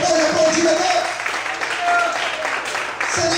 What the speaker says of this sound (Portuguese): Quantos podem aplaudir e exaltar a presença de Deus aqui nessa noite? Você pode aplaudir a Deus?